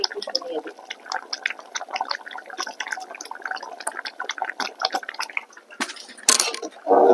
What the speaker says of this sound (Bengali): আর তরকারি যখন এভাবে বলক ওঠে, এই আওয়াজটা কিন্তু আমার কাছে খুব ভালো লাগে।